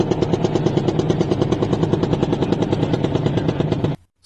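Loud, low-pitched jackhammer pounding at a gaming event venue, a dense rapid rhythmic hammering that carries steadily for about four seconds before cutting off abruptly.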